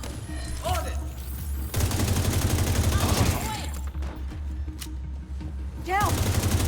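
Loud, dense gunfire in The Division 2 shooter, with rapid automatic bursts continuing throughout amid battle noise and game voices.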